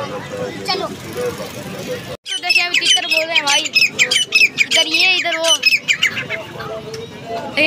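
A flock of pigeons at a bird market calls nearby in busy, overlapping squawks and coos, with people talking over them.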